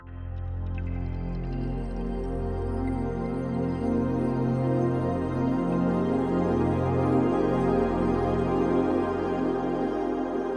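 A slow, evolving synth pad swells and drifts, airy and sustained with shimmering movement, no voices.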